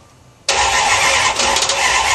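A Dart car engine starts for the first time: after a brief quiet moment it fires abruptly into a loud, close, steady roar that holds without a break, and nobody talks.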